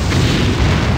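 Deep booming cannon broadside from a ship in Anno 1602, one continuous loud heavy blast with no pause.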